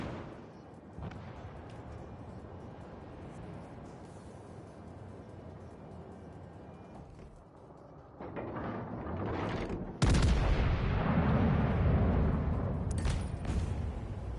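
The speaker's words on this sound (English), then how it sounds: "That's the Dukey York firing at me." Heavy battleship guns of the Duke of York boom in a World of Warships Legends naval battle, a loud broadband blast arriving late after a low rumbling stretch, with distant rumbles earlier.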